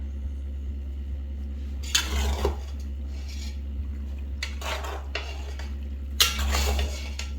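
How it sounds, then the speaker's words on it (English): A spoon stirs homemade cheeseburger macaroni in a pot, giving a few brief scraping and clinking bursts over a low steady hum, fairly quiet and close. "Let's stir that around to coat everything."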